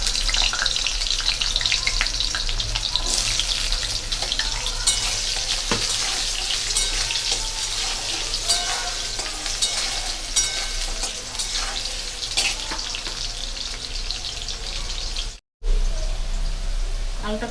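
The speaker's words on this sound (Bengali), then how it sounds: "তেল গরম হয়ে গেছে, আলু আর পটলটা ভেজে নেব।" Potato and pointed gourd frying in hot mustard oil for a dal khichdi, a loud, continuous close-up sizzle with occasional stirring scrapes and one brief dropout near the end.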